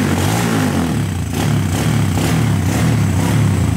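A Honda Today moped engine revs loudly and steadily up close, a rough, buzzing drone with slight rhythmic pulsing and rattle, with no talk over it.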